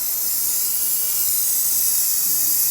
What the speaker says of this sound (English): Now we're gonna go ahead and use some brake parts cleaner and just clean up the area.